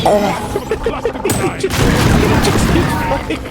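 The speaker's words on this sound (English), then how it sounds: "That's now cluster grenade." Cluster grenade detonating in Deep Rock Galactic, a loud burst of rolling blasts that crackles on for about two seconds after a spell of in-game noise and faint voices.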